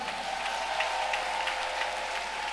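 Church congregation applauding at an Assumption feast Mass, a steady, dense wash of clapping from many hands that fills the space evenly and continuously, with no voices rising above it.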